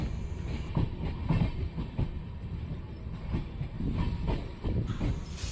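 A passenger train on the Mysore to Chitradurga run eases from the main line onto a loop line toward platform four, its wheels clattering over the points in a steady rumble with faint hissing and no voices.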